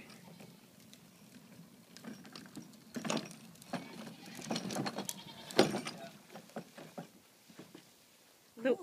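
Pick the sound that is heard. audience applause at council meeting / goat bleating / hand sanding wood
goat bleating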